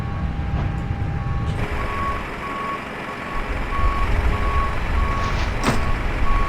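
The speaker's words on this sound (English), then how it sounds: "Passengers bus is coming." An airport passenger bus pulls up to an Airbus A320 in a flight simulator, its engine rumbling low while a steady reversing beep repeats at even intervals, loud and close.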